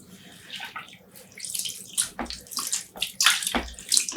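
Soaked tweed yarn is squeezed by hand over a tub of water, giving close wet splashes and trickling runoff in uneven bursts that grow louder toward the end, with no voices.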